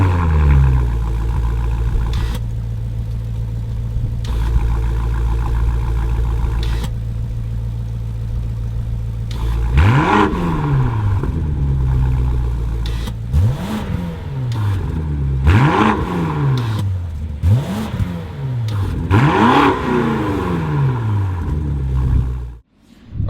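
A BMW G90 M5 fitted with a Valvetronic Designs valved sport exhaust, a steady loud idle rumble followed by a series of sharp revs rising and falling in pitch, close by, with no talk.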